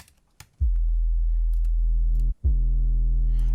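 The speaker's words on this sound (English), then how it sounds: "I like to put macros on my distortion or my effects for my sub" A heavily distorted sub bass synth note, loud and sustained with rich stacked harmonics, cuts out briefly near the end and then retriggers and holds again, with no talking.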